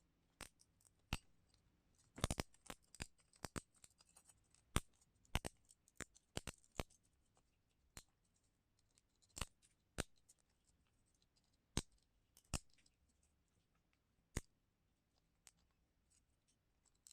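Scissors or cutters trimming a plastic shell case for a GameBox Mini ESP32 keychain, faint sharp snips and clicks scattered irregularly, clustered early then spaced out, in an otherwise quiet room.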